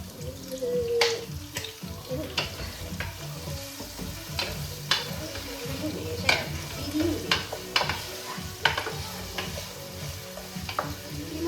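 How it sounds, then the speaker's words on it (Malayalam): Strained beef frying in a pan for beef pulao, with a soft sizzle under frequent stirring scrapes and clinks of a utensil against the pan, close and moderately loud. "അരിച്ച് വെച്ച ബീഫ് ഫ്രൈ ആക്കാം ജസ്റ്റ് ഫ്രൈ ആക്കാം"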